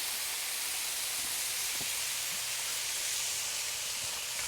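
Bacon frying on a Solo Steelfire stainless griddle, a dense, even sizzle that holds steady throughout with a few faint pops, close and moderately loud with no talking.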